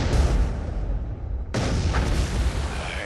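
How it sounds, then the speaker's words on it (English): Movie-style explosion sound effects: a heavy deep boom with a rumbling tail, then a second loud blast at about the midpoint that rolls on to the end, both close and full. "Explosion scenes directed by Michael Bay."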